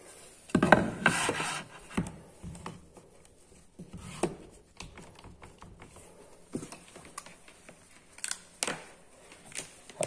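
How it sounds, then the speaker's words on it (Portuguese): An orbital finishing sander working a dark material: a rough, scratchy buzz at first, then intermittent rasping and rubbing bursts with short pauses, close and moderately loud, with no talking. "Vamos ver o que a treme-treme faz aqui."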